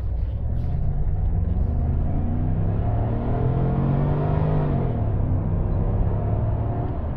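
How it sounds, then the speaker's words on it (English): A Holden Commodore SV8 VY V8 pulls hard on a New Zealand road, its steady loud engine rumble rising in pitch midway as it accelerates, with no voices over it. "you just want to listen to that V8 scream"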